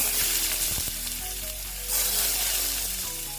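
Grated onion tossed into a pan with chopped garlic, frying in a steady close hiss with a few sharp clinks of a utensil near the start.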